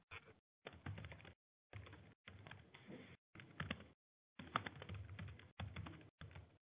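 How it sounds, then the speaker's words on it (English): Typing on a computer keyboard in bursts of rapid, close key clicks separated by short silent gaps, several rattling runs of keystrokes with no speech. "we're both typing that at the same time"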